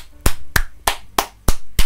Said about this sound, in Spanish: Apláudame, vamos, aplauso para Franco.